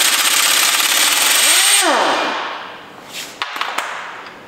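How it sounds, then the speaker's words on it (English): Air impact gun removing the pulley bolt on a Ford 1.8 TDCi engine, a loud sustained rattling whir that winds down with a falling pitch, then a few sharp metallic clinks, close up. "So I'm just going to air gun this bolt out."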